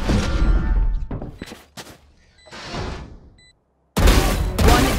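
Gunfire in the video game Valorant comes as several loud, close bursts of shots with short silent gaps between them, ending in a sustained burst.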